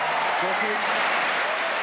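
A tennis crowd at the 2001 Betty Barclay Cup in Hamburg breaks into steady, dense applause as Dokic takes the first game against Venus Williams, sustained throughout and fairly loud.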